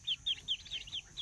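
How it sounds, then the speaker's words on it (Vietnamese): Muscovy ducklings in Can Tho give a run of about six high, thin peeping calls in steady succession, close by and fairly faint, with no voices. "Đây là những cái chú vịt nè các bạn thấy không?"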